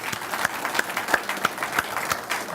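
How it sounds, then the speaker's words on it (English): Audience at an astronomy society meeting in Ottawa claps in a round of applause for Chris Hadfield, a fairly small crowd with distinct individual claps, moderate and steady throughout. "a round of applause, I believe, for Chris Hatfield is in order"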